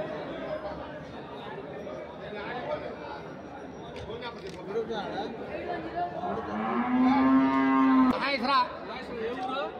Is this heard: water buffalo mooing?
yes